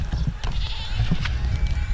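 A goat, a nanny that has just given milk, bleats loudly and close in a wavering drawn-out call, with farm background noise around it.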